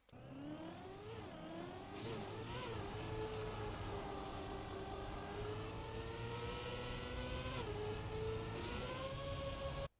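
A car in TrackMania sustains an ice wall ride, its engine droning steadily at high revs for the whole stretch with slight pitch dips and rises, loud and continuous with no talk.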